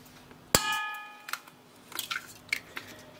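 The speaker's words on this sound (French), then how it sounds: "je casse mes 5 œufs dans mon batteur" Eggs cracked into the bowl of a heated mixer for a sponge cake: one sharp ringing clang of shell on metal, then a few small taps and wet cracks, close and fairly quiet.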